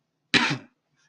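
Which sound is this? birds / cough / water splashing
cough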